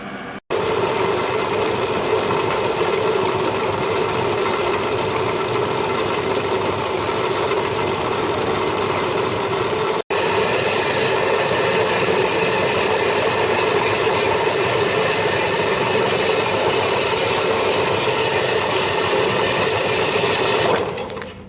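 A machine saw cuts a piece of steel into blocks for a flat bore drill, a loud, steady mechanical whirring drone with close buzzing that runs continuously for about twenty seconds, broken only by a brief dropout midway.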